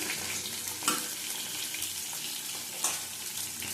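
Fish being fried with eggplant in a pan, a steady bright sizzle and crackle throughout with a couple of sharper spits, close and fairly quiet.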